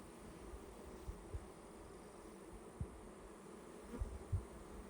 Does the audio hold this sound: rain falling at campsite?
no